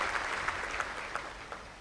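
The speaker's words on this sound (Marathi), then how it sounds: "आता टाळ्या वाजवायला हरकत नाही." Audience applause from a crowded hall at a motivational talk, a steady dense wash of many hands clapping with a few sharper accents, no voices on top.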